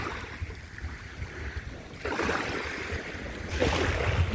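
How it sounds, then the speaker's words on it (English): Ocean waves at Tepungan Beach in the early morning, a soft rushing surf that swells louder in two surges as waves wash in, fairly faint and without talk. "Listen to those waves."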